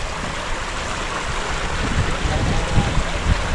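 Rough sea waves surge and wash continuously in a loud, steady roar, swelling slightly toward the end, after a storm.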